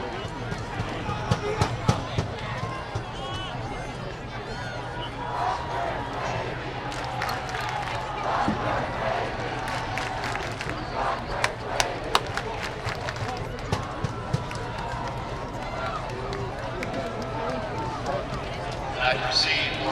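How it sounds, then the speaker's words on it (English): Student section crowd at a Ludlowe vs Fairfield Prep high school football game, a dense continuous roar of many voices with rhythmic claps and shouts rising through the stretch, heard from within the stands with no clear single talker. "we're just going to let you listen to the chants that this crowd has to say"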